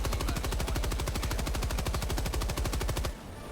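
Rapid sustained automatic fire from the 630 gun in the Helldivers 2 video game, a dense even stream of loud shots lasting about three seconds before cutting off into a faint tail.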